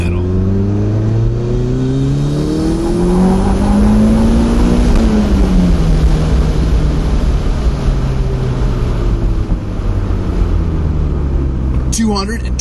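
A Toyota MR2 Turbo engine pulls at full throttle in second gear on a dyno, its loud, close roar climbing steadily in pitch, then easing off; a voice comes in briefly at the end.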